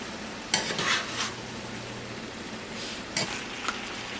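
Ground beef, onions and potatoes stirred in a pan, with a few brief scraping bursts of the spoon against the pan over a low, steady sizzle.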